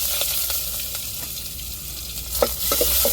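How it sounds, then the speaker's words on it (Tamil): Onions dropped into hot oil for an Indian salmon fish curry, sending up a steady bright sizzle with stirring scrapes and a few clatters of a spoon against the pan, close and loud with no speech. "இப்போ வெங்காயம் சேர்த்துக்கிடுவோம்"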